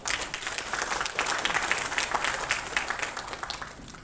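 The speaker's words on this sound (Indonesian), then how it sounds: "Tepuk tangan dulu tuh." Audience applause at the opening of a talk show on metrology and national food security, steady dense clapping from a crowd filling the whole moment without speech.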